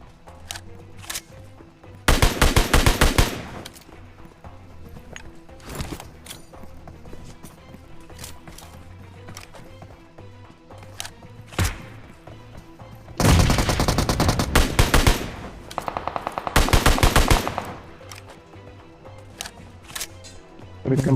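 Gunfire from the mobile game PUBG Mobile: two long bursts of rapid automatic fire and scattered single shots, loud and close, with quieter game ambience between them.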